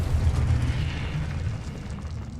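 A Confringo blasting spell goes off in Hogwarts Legacy, a deep rumbling boom that rolls on and fades over a couple of seconds, with no other sound competing.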